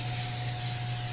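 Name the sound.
spraying olive oil cooking spray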